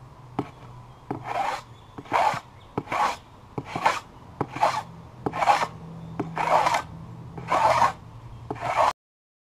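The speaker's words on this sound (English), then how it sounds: "when planing the spine, just be careful to keep the center of the spine in the middle of the ski" Hand plane shaving the wooden spine of a homemade ski, about nine close, loud rasping strokes in a steady rhythm, each opening with a sharp knock.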